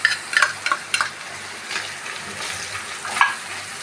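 Grated coconut fries lightly in a pan with a soft, steady sizzle, broken by a few brief scraping stirs near the start and again toward the end.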